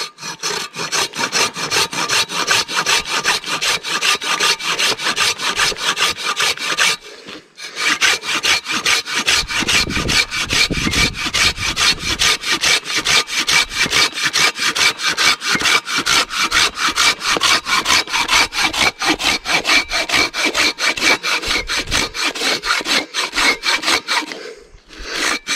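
Hand saw cutting firewood by hand, a steady rapid rasping back-and-forth rhythm of strokes, close and loud, with one short pause midway and another near the end, no talking.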